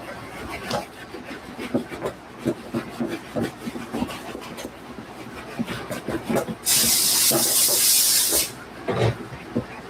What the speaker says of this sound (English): we're going to take our horsehair bristle brush, and we're actually going to massage all of that in